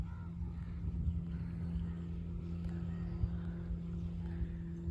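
A speedboat runs on the water of Mangla Dam near Mirpur, its steady low engine drone continuous and moderately distant beneath wind noise, with no clear voices.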